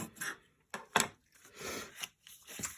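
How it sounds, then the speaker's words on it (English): A bone folder burnishes score lines on paper for a pull-up slider card, giving soft, close rubbing and scraping strokes in short bursts with quiet gaps between them. "I'm going to take my bone folder, and we are going to burnish these score lines just like that."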